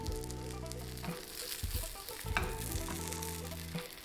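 A veggie burger patty of bulgur wheat and chickpeas sizzles steadily as it browns in a preheated pan over medium heat, the frying hiss continuous with background music underneath.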